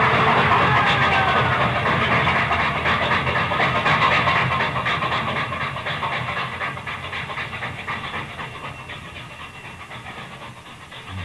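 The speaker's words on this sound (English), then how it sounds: "That switch engine. You're running right into it." A switch engine train bears down on a man, its loud chuffing steam rhythm and rumbling wheels filling the scene, then slowly fading as it passes, with no voices.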